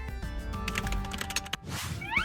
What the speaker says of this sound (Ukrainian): та клавіатура, виявляється, ще працює